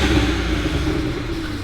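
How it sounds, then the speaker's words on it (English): A BMW 335i N54 engine with a stage 1 tune revs steadily at close range, a loud low rumble holding throughout with rough exhaust crackle and burbles underneath. "let's give it a few revs"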